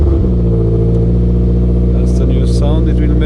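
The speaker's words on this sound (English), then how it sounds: "start up the car." A Toyota GT86 with a modified exhaust front pipe cranks and fires up, settling into a loud, steady idle with a low rumbling drone, while a person talks over it near the end.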